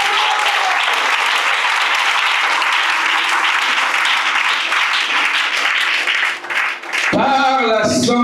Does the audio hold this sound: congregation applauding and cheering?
yes